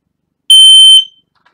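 A single loud, piercing electronic beep from a smoke alarm being tested, lasting about half a second and then cutting off into silence.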